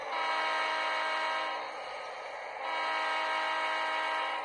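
A fast freight train runs steadily as heard from inside the cab, a loud continuous rumble and drone with a tonal horn-like hum that briefly dips midway, with no voices.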